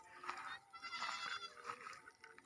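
Goats in a herd on a farm in Thailand bleat in a few wavering, overlapping calls at moderate distance over faint background noise.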